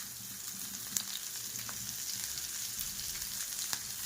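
Chopped onion and green chili with whole cumin sizzle steadily in fish oil, a soft continuous frying hiss with a couple of faint clicks from the pan.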